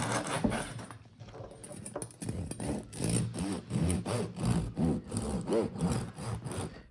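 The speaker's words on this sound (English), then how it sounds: "See, this knife is flexing when I cut it." A steel bread knife saws through a loaf of sourdough in steady, rhythmic back-and-forth strokes, close and fairly loud, with a brief pause before the cutting picks up.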